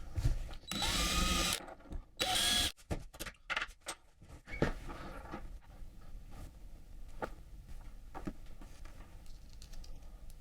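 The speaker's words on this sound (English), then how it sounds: "So first thing I'll do is just drill out some holes to bolt these together." Two short bursts of a power drill whir up close, followed by scattered clicks, taps and small handling knocks.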